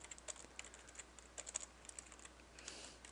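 Rapid, irregular keystrokes on a computer keyboard while code is being entered, a steady stream of soft clicks with a few louder taps, heard alone and fairly quiet.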